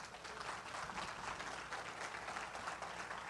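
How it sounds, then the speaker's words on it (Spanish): A church congregation applauds for the Lord after a sermon prayer, a steady, distant wash of clapping that stays faint and even throughout. "Dale un aplauso al Señor."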